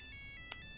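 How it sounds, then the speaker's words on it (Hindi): A mobile phone ringtone chimes faintly in a few short repeating electronic tones over a low background hum. "अरे फोन है। अरे मेरे पास फोन है।"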